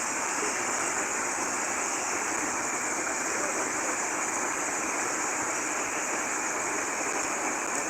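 Fast-flowing water beside a hiking trail on Marapi mountain at Nagari Aie Angek, a constant dense rushing roar with no breaks and no voices.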